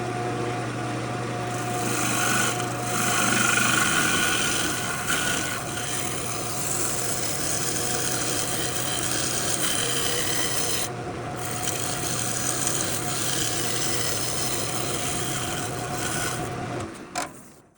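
Wood lathe rough turning a walnut bowl, a continuous close rasping, scraping roar of the gouge cutting spinning wood over a steady motor hum, with no talk.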